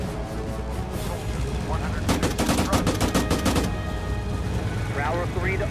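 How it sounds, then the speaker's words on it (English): A rapid burst of machine gun fire in Arma 3, set in a 1944 battle, rattles for about a second and a half over a constant background rumble, with voices heard briefly near the end. "Machine gun to the left at our 2 o'clock gun."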